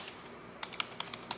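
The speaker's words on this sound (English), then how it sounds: "So type in the service" A short run of keystrokes on a computer keyboard, a few distinct close clicks spaced unevenly over a quiet background.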